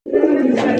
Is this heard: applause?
no